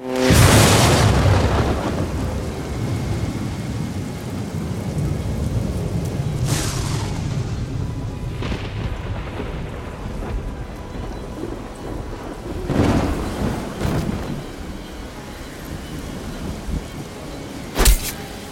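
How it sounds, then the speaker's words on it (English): A lightning strike in the Friday the 13th video game brings a loud thunder crack over steady heavy rain, followed by more rumbling thunder and a sharp late boom, with no talk. "This will then cause a lightning strike to hit, which will ultimately resurrect him."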